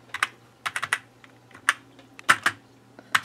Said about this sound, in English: So if I type in my channel name,